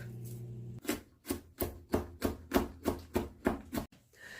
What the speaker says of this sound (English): raw pre-washed broccoli here that I gotta chop smaller